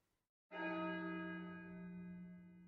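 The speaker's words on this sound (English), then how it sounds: "Outside, a clock struck the hour. Only one muffled gong sounded." A single deep gong from a clock striking the hour, with a sharp onset after a moment of quiet, then a long ringing hum that slowly decays, heard on its own with no talking.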